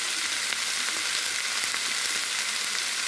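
Vegetables frying in a pan with salt, turmeric and curry spices, a steady close sizzle with faint crackles throughout, no voices.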